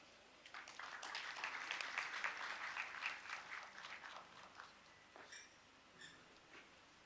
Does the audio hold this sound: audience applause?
yes